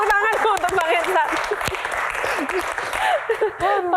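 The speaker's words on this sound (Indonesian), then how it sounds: "Tepuk tangan untuk Bang Hensat" Audience applause for a guest at a Q&A event, broad clapping filling the room while voices and cheers rise over it throughout.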